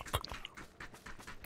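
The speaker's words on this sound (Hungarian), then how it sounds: "Kutya." A dog in the battle-royale shooter PUBG gives a sharp bark or two at close range, set among other clipped in-game noises.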